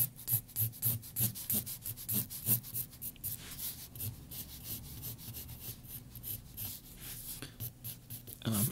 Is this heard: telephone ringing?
no